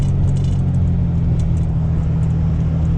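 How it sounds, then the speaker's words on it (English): A heavy white tractor-trailer rumbles past in a snowstorm with a deep, steady low-frequency drone and road noise, loud and continuous throughout. "Big white tractor trailer in the snowstorm"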